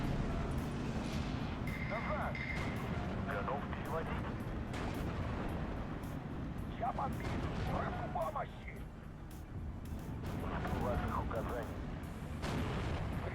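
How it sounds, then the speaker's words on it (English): Bombers pound a Panzer tank in the war game Steel Division 2, with a continuous rumble of explosions and artillery bursts layered with scattered booms and crackling battle noise throughout. "There's a Panzer there, which is about to get wrecked by our bombers."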